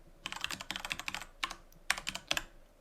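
Rapid typing on a computer keyboard to enter a security group name, with close, crisp key clicks in quick bursts separated by short pauses, and no talking.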